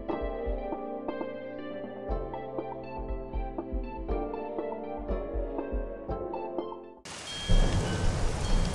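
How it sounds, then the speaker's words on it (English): Game music with plucked tones plays, then abruptly gives way to a loud, dense hiss of rain in the video game Animal Jam, lasting to the end. "It's raining!"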